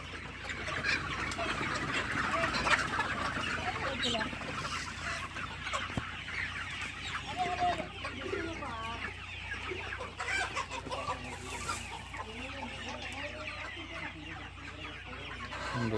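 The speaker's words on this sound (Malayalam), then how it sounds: "എന്ത് മാത്രം കോടി ഒരു ആയിരത്തിൽ കൂടുതൽ വരും കോഴി" More than a thousand chickens cluck together on a large poultry farm in Maharashtra, a dense, continuous, moderately loud chorus of overlapping clucks heard from among the flock.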